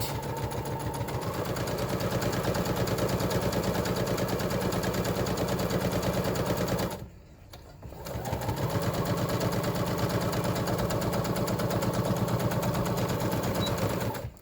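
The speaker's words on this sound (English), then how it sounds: "we're going to start sewing, and then we're going to press our back stitch, and then we're going to keep going straight" A sewing machine runs a straight stitch through fabric with a steady, loud, continuous mechanical whir, pausing briefly for a back stitch before running again at full speed.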